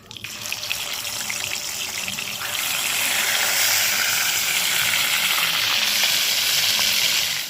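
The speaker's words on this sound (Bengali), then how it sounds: "বাকি মাছগুলোকেও এক এক করে ভেজে নেবো" Pieces of chela fish frying in hot oil in a pan, giving a loud, continuous crackling sizzle that builds slightly and then holds steady at close range.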